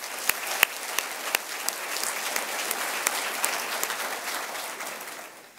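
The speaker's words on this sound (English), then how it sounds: "Let's give them a round of applause." A crowd claps at a school awards day, giving dense, even applause with a few sharp individual claps standing out, then tapering off at the end.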